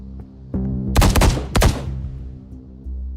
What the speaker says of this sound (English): Did I just hear gunshots? Yes, and they were close.